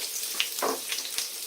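Onion frying in a warm pan, a steady soft sizzle with faint crackles and a brief clink or scrape of a utensil, close by with no talk.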